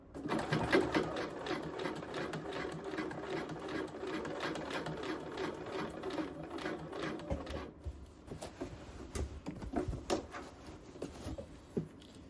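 A sewing machine runs continuously, stitching a set-in sleeve on a blazer with the sleeve fitted over the machine's arm; a steady close mechanical whir for most of the clip, then slower bursts with small clicks near the end.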